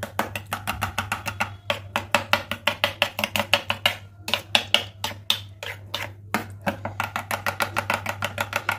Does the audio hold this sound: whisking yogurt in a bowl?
yes